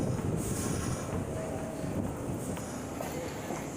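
Inside a moving passenger train, a steady low rumble of wheels on track fills the car, with faint squeals and clicks rising now and then and no clear voices.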